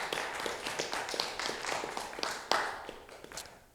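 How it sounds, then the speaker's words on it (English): A film festival audience applauds after a documentary short screening, a dense wash of many hands clapping at a steady level, with a few louder individual claps standing out. "Applaud that."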